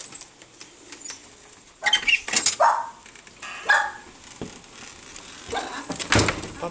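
A puppy gives a few short, sharp barks amid close indoor clatter and rustling in a warm room.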